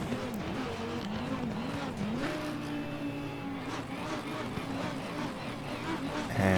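A Lamborghini Huracan EVO in Assetto Corsa Competizione sits at Monza with its engine held on the limiter, a steady buzzing drone with wavering harmonics that mixes with other cars' engines in a dense racing-game soundscape.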